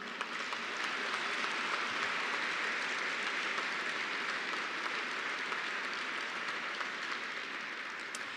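Sustained applause from the audience at a Vietnam veterans pinning ceremony, steady dense clapping filling the room throughout with no voices over it.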